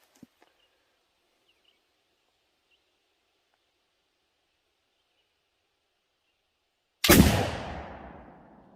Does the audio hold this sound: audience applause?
no